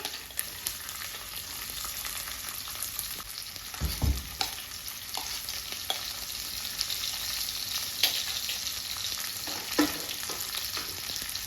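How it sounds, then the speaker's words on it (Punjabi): Finely chopped onion frying in oil with light brown garlic for besan bhurji makes a continuous hiss. A few louder stirring scrapes and knocks break through, one sharp thud near the middle, and nobody speaks. "ਪਿਆਜ਼ ਨੂੰ ਵੀ ਹੁਣ ਲਾਈਟ ਬ੍ਰਾਊਨ ਹੋਣ ਤੱਕ ਹੀ ਭੁੰਨਣਾ ਹੈ"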